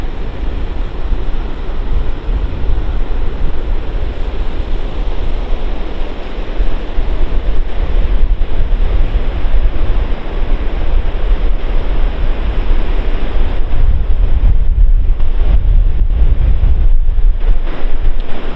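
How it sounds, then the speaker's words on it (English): Sea waves wash in along the shore at St Leonards-on-Sea as the tide starts to come in, a loud continuous surf roar with heavy wind buffeting on the microphone throughout. "I think the tide might start to come in."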